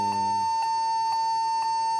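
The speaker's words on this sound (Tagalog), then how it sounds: "Nagbi-beep siya." A Lenovo G40-80 laptop emits a steady high electronic beep at startup, continuous and close, with a faint repeated clicking pulse beneath it and no speech.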